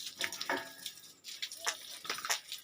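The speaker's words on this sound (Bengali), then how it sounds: "প্রতিদিন ওদেরকে এইভাবে স্নান করিয়ে দিতে হয়" Water splashes over pigs being bathed on a pig farm, in uneven bursts of pouring and spattering with short drips between them.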